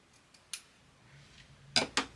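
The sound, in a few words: scissors cutting out a fabric label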